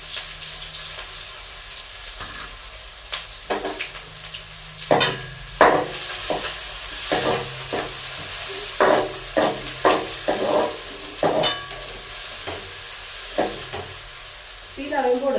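Onion and green chili fry in a pan for a fish curry with mango and jackfruit seeds, giving a steady sizzle under repeated sharp stirring scrapes and clatters, with some running water in the background.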